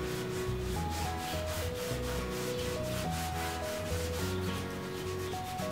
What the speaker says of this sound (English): you take a rag and you start rubbing it into the wood